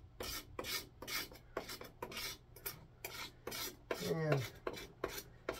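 A knife blade scraped along a hammer handle, stripping old stain from the wood in a steady series of close rasping strokes, each a short burst with brief gaps, and one brief squeak near the end.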